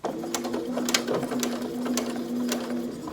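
A sewing machine back-stitches across a seam of a fabric origami pouch, giving a steady close mechanical hum with rapid, even needle ticks throughout.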